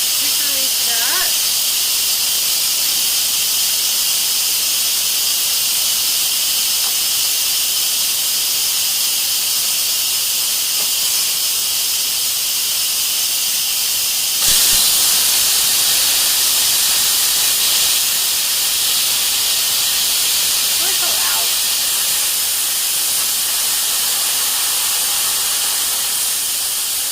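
An Instant Pot does a quick pressure release, venting steam in a loud, continuous, steady hiss that carries through the whole stretch with a faint surge partway through.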